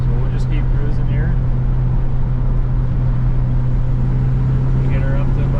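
A 1958 Chevrolet Delray cruising on the road in overdrive, its engine giving a loud, steady drone with continuous road and wind noise and someone talking over it.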